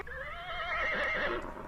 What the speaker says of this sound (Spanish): ¿Recuerdas el sonido del caballo?